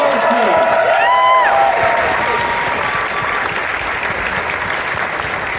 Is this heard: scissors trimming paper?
no